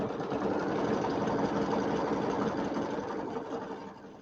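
A sewing machine stitches a Kimberbell quilt piece for a bench pillow, a fast, steady close whirring hum that runs continuously and eases off slightly at the end.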